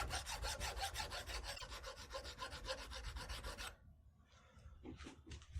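Hand file rasping sideways across a Belgian pinfire revolver loading gate, a steady run of quick rhythmic strokes that stops partway, leaving a few faint scrapes after.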